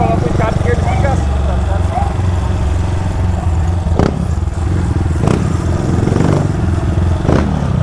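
A Honda Start 160 motorcycle fitted with a GRS exhaust idles and revs loudly nearby, with sharp throttle blips standing out over the continuous engine rumble.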